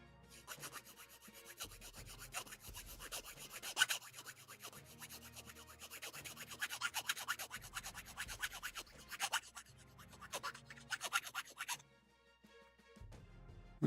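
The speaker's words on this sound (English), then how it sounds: "just do this little polish here. Just rub it gently. You do not file roughly." A small plastic Gunpla part, a 1/144 HG Bandai kit piece, is gently rubbed and polished, producing a faint, continuous close scratchy rasp in short back-and-forth strokes, alone.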